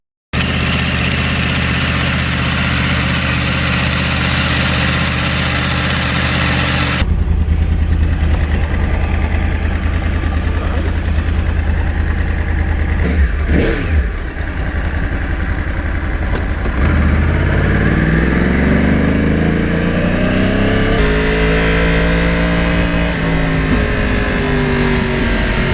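A Yamaha R1 crossplane motorcycle engine running loud and close, first a steady drone, then shifting tone and rising and falling through revs in the second half, with no talk.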